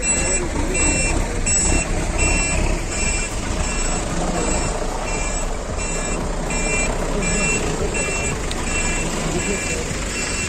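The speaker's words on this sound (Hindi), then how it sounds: "तो यहाँ पे फिर गाड़ी आ रही है" A truck or similar vehicle moves along a road in Pakistan, its reversing alarm beeping in an even, repeating rhythm over a low engine rumble, with faint talking nearby.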